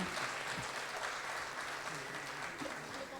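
An audience at a Bollywood classics concert applauds in a dense, sustained wash of clapping that holds steady throughout.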